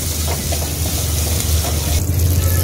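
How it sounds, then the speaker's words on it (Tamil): Onions and garlic sautéing with salt in a pan for a Tamil green banana gravy give a steady, close sizzle with light stirring scrapes, no voices. "இந்த உப்பு போட்டதுக்கப்புறம் டக்குன்னு இந்த வெங்காயம்லாம் நல்லா வதங்கிடுச்சு, பூண்டெல்லாம்"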